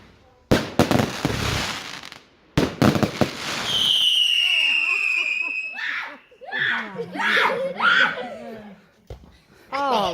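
Bonfire night fireworks going off in two loud, close bursts of crackling explosions, followed by a long rising whistle and then excited voices shouting and laughing nearby.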